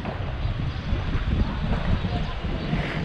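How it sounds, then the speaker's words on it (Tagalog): Steady wind buffets the microphone with a low, continuous rumble and hiss, no other distinct sounds standing out. "Mahangin."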